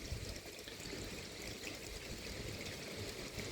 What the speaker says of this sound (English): The rain's coming again. It's never stopped raining.